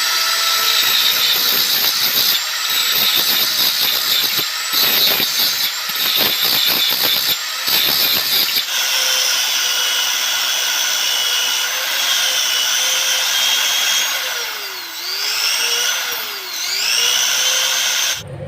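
A power tool whines and grinds against a small PVC miniature truck wheel rim in bursts, then settles into a long steady buzzing run with pitch dips as pressure changes; no talk.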